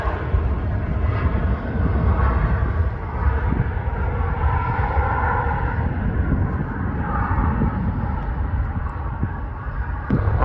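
An airliner taxiing at Manchester Airport after pushback from Terminal 1, heard as a steady distant jet engine roar mixed with wind buffeting on the microphone.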